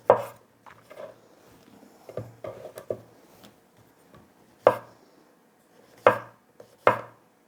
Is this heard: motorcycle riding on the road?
no